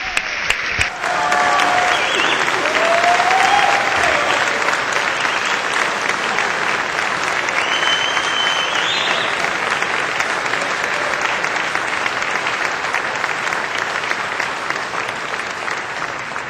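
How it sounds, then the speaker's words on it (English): Sustained applause from members on a state House floor honouring a recent graduate, steady and dense for about sixteen seconds with no speech over it. "can we applaud for him, please?"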